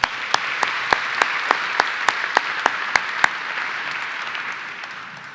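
Applause from a ceremony crowd at a steel mill groundbreaking, with one nearby person clapping in a sharp, regular beat over the softer massed clapping that fades toward the end.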